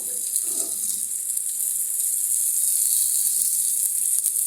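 Chopped garlic and onion frying in a pan, a loud, continuous hissing sizzle that stays even throughout, close up with no talking.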